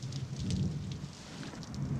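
Steady rain pours down outdoors at night, a continuous close patter and hiss on surfaces with a low rumble underneath, no voices.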